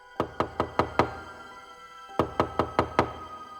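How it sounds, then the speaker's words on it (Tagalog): Knocking on a wooden door: two clear bursts of five evenly spaced, loud, hollow raps each, separated by a pause of about a second, heard alone and close. "biglang may kumatok sa labas ng pinto at tinawag si Mama."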